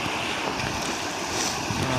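Floodwater rushes over a dam during heavy rain, a loud, steady broadband roar of pouring water that continues without a break, with no voices.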